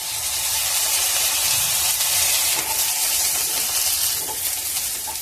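Small, washed pieces of moringa drumstick sizzle in hot oil in a pan, a steady, close frying hiss with faint crackles throughout and no voices.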